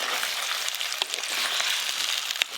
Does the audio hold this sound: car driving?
no